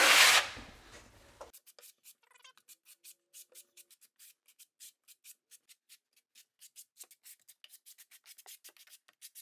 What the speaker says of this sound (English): We're using a 1/2 inch trowel here because we have such a big tile here.